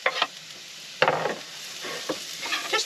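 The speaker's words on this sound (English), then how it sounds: "The sizzle means your pan is hot enough." Hot oil sizzles steadily in a pan with a few sharper crackles and spatters, close and fairly loud, with no voices.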